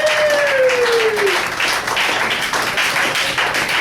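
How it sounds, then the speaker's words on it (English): Audience applause at a comedy roast in a café, a steady dense clatter of clapping running the full length, loud and close, with a brief whistle-like tone at the start. "Round of applause for Jared."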